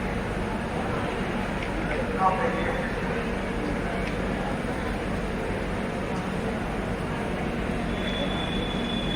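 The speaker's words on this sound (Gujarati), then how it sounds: "આ ટ્રેનનું આગમન થઈ રહ્યું છે" A Vande Bharat train rumbles into a station with a steady heavy roar and a faint whine, and voices murmur in the background.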